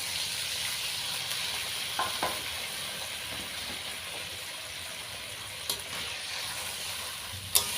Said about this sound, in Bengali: এবার দিয়ে দেবো জল, তবে গরম জল।